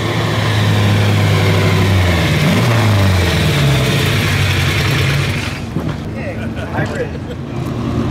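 A Ferrari Testarossa's engine hums and revs loudly at the 2018 Pebble Beach Concours, with shifting pitch as it runs up close, while someone talks over it.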